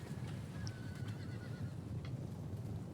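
A horse neighs in a Total War: Rome II multiplayer battle, its whinny over a constant dense rumble of combat noise and hoofbeats that runs through the whole stretch.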